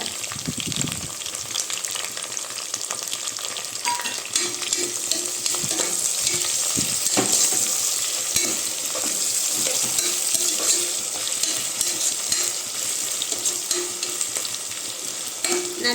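Onions sauté in hot oil with ginger-garlic paste and curry leaves for a country chicken biryani, giving a steady, close sizzle with occasional stirring scrapes throughout.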